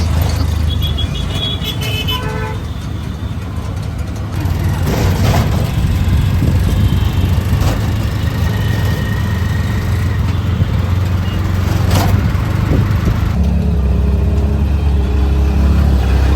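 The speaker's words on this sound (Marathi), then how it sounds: "हे बघा किती ट्रॅफिक आहे, जाम." Dense city road traffic jam heard from a slow auto-rickshaw: a steady engine rumble and road roar throughout, with a few short car horn toots early on and continuous loud vehicle noise to the end.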